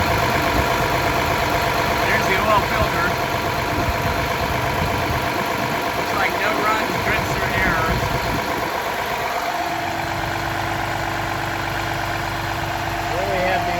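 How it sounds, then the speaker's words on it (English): A Cummins 8.9 liter diesel engine in a motorhome idles steadily and close, with someone talking over the running engine. "All right, there's your engine running."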